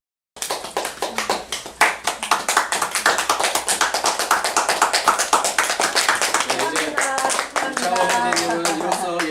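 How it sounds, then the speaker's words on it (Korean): Congregation at a baptism service claps together in a dense, steady burst of hand claps that fills the room and carries on loudly for several seconds without letting up. "자, 이제 박수 쳐주시고요."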